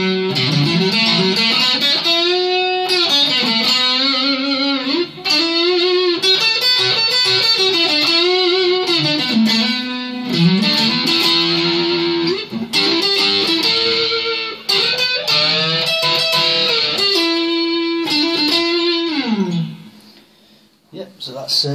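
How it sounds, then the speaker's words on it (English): A distorted Harley Benton Telecaster electric guitar plays sustained chords and riffs on the bridge and neck pickups for a long stretch, thick and buzzy, with brief pauses before trailing off. "Yep, so that's a little bit of distortion."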